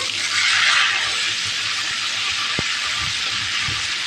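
Pointed gourd seeds and spice paste hit hot oil and fry with a loud, steady hiss, with a sharp clack from a utensil partway through and faint stirring bumps after it.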